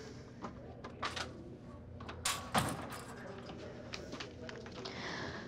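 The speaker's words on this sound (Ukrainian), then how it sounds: "Закрий, будь ласка, двері." Indoors, a door is pushed shut with a single solid thud near the middle, preceded by a few small knocks and shuffles, with voices in the room around it.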